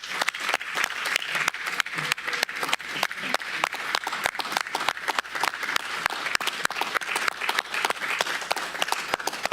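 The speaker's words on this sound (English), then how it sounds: "let's give her a big round of applause" An audience at a county supervisors' meeting claps steadily and fairly loudly for several seconds, a dense patter of many hands with no voices standing out.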